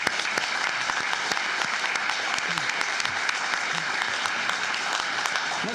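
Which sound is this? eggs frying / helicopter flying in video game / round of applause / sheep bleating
round of applause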